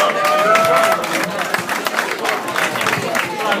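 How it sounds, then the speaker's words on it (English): An audience at a speaking event breaks into applause for a speaker, clapping and cheering loudly with crowd voices rising early and noise mixed throughout. "Give him a big round of applause"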